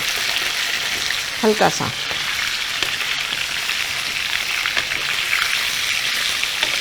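Boneless and bone-in meat pieces sizzle steadily in a pan, a close continuous crackle with occasional sharper stirring knocks and a short spoken phrase early on.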